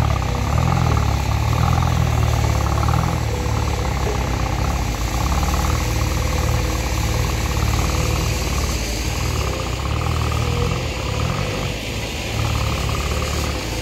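Small machine engine with fast-turning gears running steadily while digging a deep L-shaped pool, a continuous loud mechanical drone with a throbbing low rumble and no talk.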